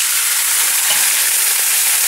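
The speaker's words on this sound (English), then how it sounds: "We're gonna deglaze with our red wine." Red wine hits a hot pan to deglaze it, giving a loud, even, hissing sizzle that holds steady for the whole two seconds with no voices.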